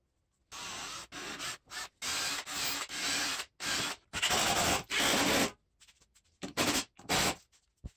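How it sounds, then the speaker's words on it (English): Cables are pulled one at a time through the lower drag chain of a DIY CNC router gantry, giving close, repeated rasping and rubbing bursts of about a second each, separated by short silent gaps. "I can then start pulling them one at a time through the lower drag chain"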